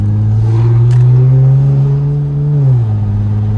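Loud, steady exhaust drone from a Dodge Charger SRT8, the engine holding a deep rumble under light revs before easing down near the end, with no clear pops and no talking.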